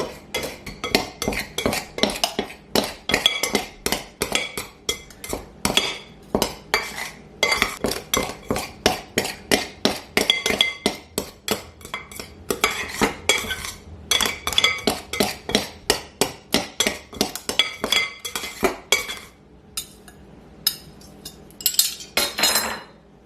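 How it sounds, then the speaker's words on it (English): Two table knives cut cold butter into flour in a bowl for baking powder biscuits. Rapid, rhythmic metallic clinks and scrapes ring out close and loud in steady bursts, easing off near the end. "So to cut the butter into the flour, I'll start off with 2 knives, and you make cutting motions like that."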